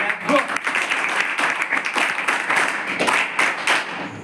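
Hostel audience in Gopal Nagar, Amravati, keeps clapping hard, a loud crowded patter with some individual sharp claps standing out, a faint voice briefly audible near the start.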